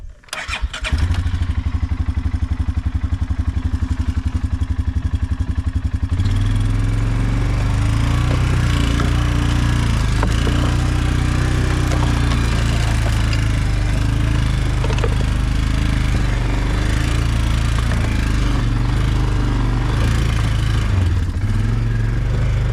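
A homemade Woods Kart's engine drives out through scruffy woods. It starts rough, settles into a steady loud running drone, and holds close and continuous throughout.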